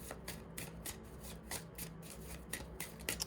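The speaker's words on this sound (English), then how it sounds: "So I'm just going to keep shuffling until I get the other 2." Tarot cards are shuffled in a quick, regular rhythm, each riffle giving a crisp, close, fairly quiet ruffling swish, repeated about a dozen times with no talking.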